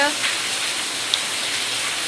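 Heavy rain pours steadily on a rainy day during the Raksha Bandhan season, a dense, even hiss filling the scene close by, with a faint voice briefly at the start.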